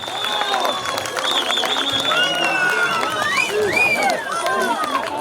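A crowd of young people at a youth festival applauds and cheers, steady clapping mixed with whistles and babble, while an announcer's amplified voice talks over it.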